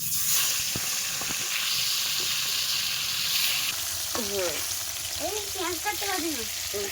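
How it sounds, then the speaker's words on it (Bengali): Fish pieces and heads dusted with turmeric fry in hot oil in a wok, producing a constant loud sizzle and crackle, while voices talk briefly over it in the second half. "এই যে মাছগুলো ভাজবো"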